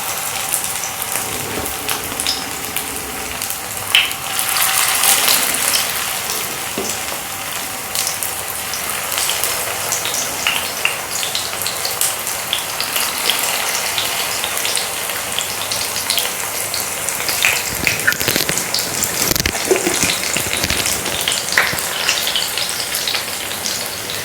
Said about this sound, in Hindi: तो आज हम इस नाश्ते को सैलो फ्राई करेंगे और तेल जो है गरम होना चाहिए।